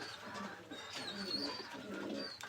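Imported Nila and Motiwale pigeons coo softly and repeatedly, with soft chirps mixed in over a steady background hum.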